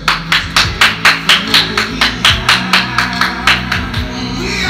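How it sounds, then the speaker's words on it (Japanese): Audience clapping in unison at a live idol group show, a fast, even run of sharp rhythmic claps at close range that stops near the end. "あや、あやにも拍手。"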